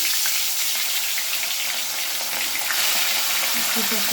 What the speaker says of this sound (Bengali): তেলের ওপরে মাছটা দিয়ে দিচ্ছি